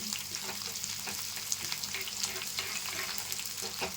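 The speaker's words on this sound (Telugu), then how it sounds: "ఉల్లిపాయలు ఎర్రగా వేగాలండి, ఉల్లిపాయ ముక్కలు." Chopped onions frying in hot oil, alongside dried red chillies, for a lentil soup, with a steady close sizzle and crackle and occasional stirring scrapes, no talk.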